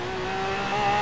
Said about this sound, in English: Okay, I spun a lot on that launch.